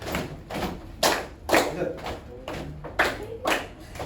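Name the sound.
class doing the concentration clap (tepuk konsentrasi)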